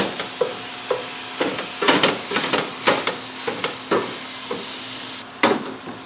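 Ground beef fries steadily in a pan for beef stroganoff while a tool breaks it apart, giving repeated scraping chops and taps over a constant sizzle, close and alone.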